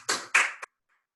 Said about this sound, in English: So give yourselves a big clap.